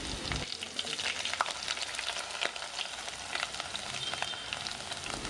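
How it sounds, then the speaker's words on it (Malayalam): Garlic and ginger sauté in fenugreek-infused oil on medium flame for a Kottayam-style Kerala fish curry, giving a steady, close, dense sizzle and crackle that runs throughout with no talking. "വെളുത്തുള്ളിയും ഇഞ്ചിയെല്ലാം ഇട്ട് കൊടുത്ത് ഒരു 2 മിനിറ്റ് മീഡിയം ഫ്ലെയിമിലിട്ടൊന്ന് സോട്ട് ചെയ്യാം."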